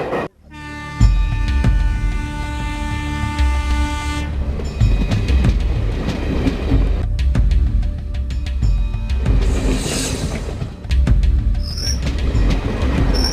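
A train rumbles past close by, heavy low clatter of wheels with a long horn blast at the start and squealing metal later on.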